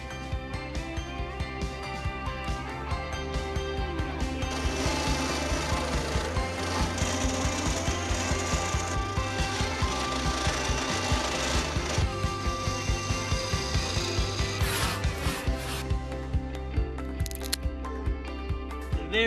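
A wood lathe turns a wooden honey dipper while detail tools finish it, giving a steady motor hum with scraping and rubbing of the cutting tool, continuous and close with varying intensity.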